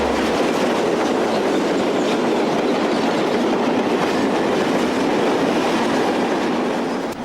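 A Portuguese CP class 2551 locomotive hauls a southbound train of freight hoppers near Villafranca, a loud, steady, close rumble of wheels and wagons that holds throughout and eases slightly at the end.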